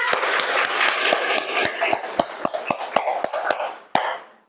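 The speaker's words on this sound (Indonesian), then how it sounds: "Tepuk tangan." Students in a classroom clap together in a quick rhythmic run of sharp, close claps that start dense, settle into a steady beat, then end with a final clap and fade.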